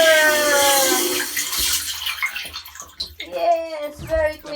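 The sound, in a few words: water filling a water tank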